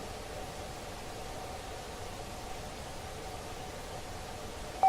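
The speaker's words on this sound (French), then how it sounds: "Et là, j'ai mis du bruit rose." Steady hiss of pink noise from a sound generator, a constant broadband rush held at low level throughout with no voices.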